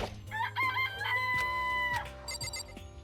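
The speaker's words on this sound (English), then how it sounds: "It's a chicken." Chickens in the Danganronpa: Trigger Happy Havoc video game, clucking and a crowing rooster call in close, loud bursts over a quiet game background.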